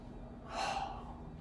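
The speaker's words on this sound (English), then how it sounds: "stretch out as you exhale" One brief, airy exhale from a person arching and stretching their back in an exercise class, soft and close.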